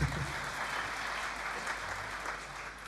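Audience applause fills a concert hall after a big band performance, steady and dense for the full stretch, loud and unbroken with a slight fade toward the end.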